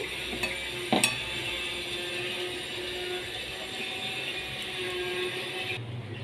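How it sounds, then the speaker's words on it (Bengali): Prawns being mixed by hand with mustard, poppy seed and chilli paste in a bowl, a faint steady wet stirring and squishing with a couple of small knocks, no talking. "বাটাগুলো দিয়েও আমি ভালো করে চিংড়ি মাছ মেখে নিচ্ছি।"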